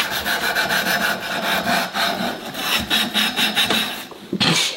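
Nail file rasped back and forth against a cardboard surface, a dense run of rhythmic scraping strokes, steady and close for several seconds with a brief pause near the end.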